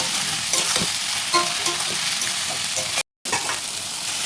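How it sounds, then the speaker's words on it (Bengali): Steady broadband sizzling of salted onions frying in a pan, with a few soft stirring scrapes and a brief dropout near the end. "পেঁয়াজটা ভাজা হয়ে গেছে"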